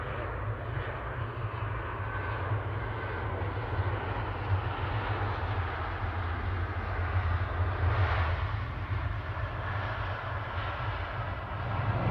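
An airliner arriving at Manchester Airport from Gran Canaria makes a continuous low, broad engine roar that holds steady and moderately loud throughout, with no clear voices.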